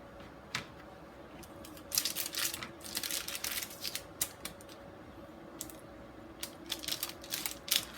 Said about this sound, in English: we're going to cut our brownies into squares